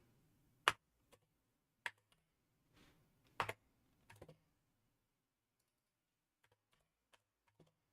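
Sparse keystrokes tap on a computer keyboard during a live day-trading session, a handful of separate clicks with pauses between them, close and fairly quiet, with no talk.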